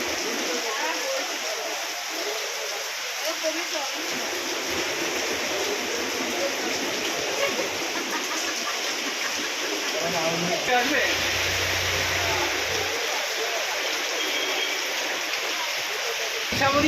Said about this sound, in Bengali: দোকানের মধ্যে জল ঢুকে যাচ্ছে